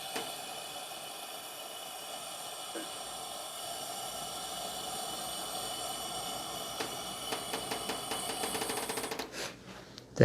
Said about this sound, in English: the metal, the aluminum foil moving with the electric current.